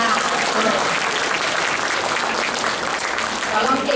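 An audience at an academic oration bursts into thick, continuous applause. The clapping stays loud and even throughout, with a faint voice mixed into the crowd noise.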